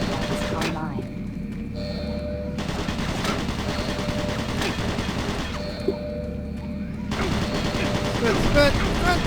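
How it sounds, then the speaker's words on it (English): Automated turret guns in the Doom BFG Edition game fire in sustained bursts, loud and dense throughout, with brief gaps and overlapping game effects. "Automated turret guns online."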